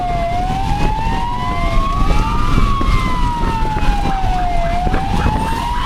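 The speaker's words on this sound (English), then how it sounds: "The ambulance has to go through." An ambulance siren wails continuously nearby, its pitch sweeping up and down over steady traffic rumble.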